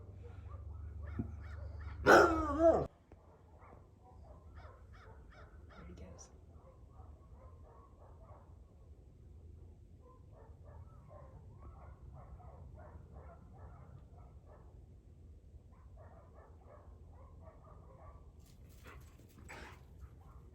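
A dog barks in a short burst of loud yaps near the start, then faint scattered barking and yelps carry on at a distance in a scooter repair setting.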